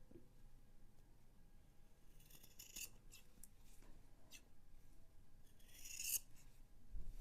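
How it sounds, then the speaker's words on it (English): Scissors snip the fabric corners off a sewn bookmark: a few faint, close, crisp cutting sounds, scattered and quiet, with no talking. "I'm going to snip off the corners nice and close."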